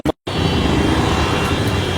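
Road traffic crosses a bridge in Goregaon, Mumbai, a dense, steady roar of passing vehicles heard close by after a brief cut at the start, with no voices.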